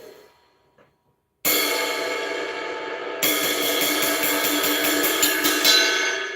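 A 1960s 22-inch Paiste 602 ride cymbal, dirty, struck and left to ring, then hit repeatedly in a steady pattern, with a dark, washy shimmer up close.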